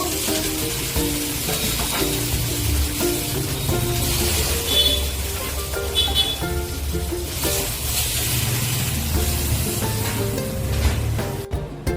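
Fish pieces frying in hot oil in a wok, giving a constant bubbling sizzle with scattered spits and pops, and a sharp clatter near the end as the fish is lifted out.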